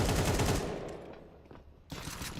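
Dense bursts of rapid gunfire from a Deagle and an AK fill a Crossfire video game match, a loud continuous rattle that dips briefly, then resumes just as hard near the end, with no talk.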